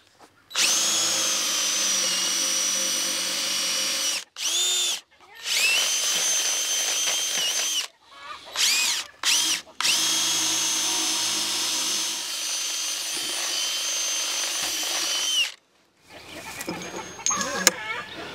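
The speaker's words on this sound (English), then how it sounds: "the first thing we need to do is drill our holes in the 4x4 and put our hangers in" A power drill runs in long, loud bursts with short pauses between them, boring into a wooden 4x4 post; some clattering follows at the end.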